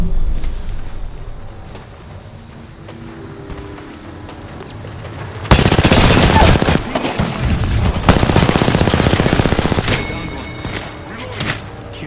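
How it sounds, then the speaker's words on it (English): An enemy squad opens fire in a battle royale video game: quiet at first, then sustained loud bursts of automatic gunfire and rapid shots rattle at close range, with brief lulls, and a voice speaks now and then. "A second squad is firing at us."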